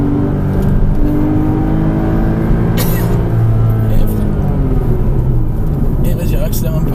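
A Porsche Cayman S drives at a circuit driving course. Its engine drones loudly and steadily close by, with a rising tone suggesting acceleration. A voice can be heard over the engine noise.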